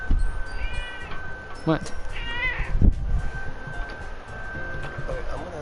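A cat named Ethan meows a few times, close by, in a room where people talk over it; one voice also imitates a meow.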